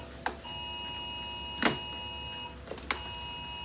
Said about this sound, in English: Sorry about the beeping in the background, but we have a weather alert here.